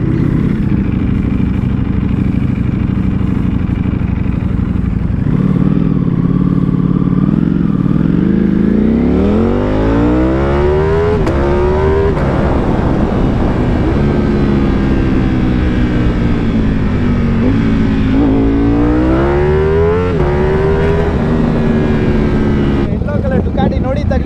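Superbikes and supercars set off on a group ride, loud engines droning and rising in pitch as they accelerate through the gears, with people talking over the steady roar.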